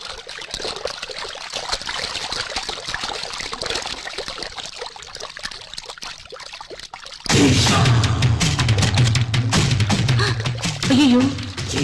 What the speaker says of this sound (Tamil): தண்ணி போட சத்தம் கேக்குது